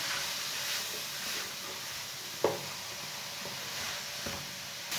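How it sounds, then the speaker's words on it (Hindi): Grated carrots for carrot halwa roast in a pan over medium heat, giving a soft, steady sizzle with occasional scraping clicks as a spoon stirs them. "अब इसे ऐसे ही चम्मच चलाते हुए 4-5 मिनट तक भून लेंगे। इसे मीडियम आंच पर भूनना।"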